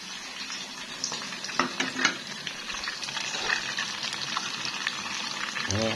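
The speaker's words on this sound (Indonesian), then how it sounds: "Aku goreng juga." Food frying in a pan during traditional home cooking: a steady crackling sizzle with scattered pops and a few scraping clinks of a utensil, fairly close and heard alone.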